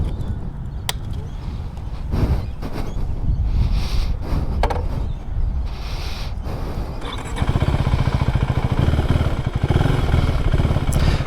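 A 2024 KTM Duke 390 motorcycle engine, stock, drones steadily while riding, with wind buffeting the microphone and a faster, rougher engine pulse in the final few seconds.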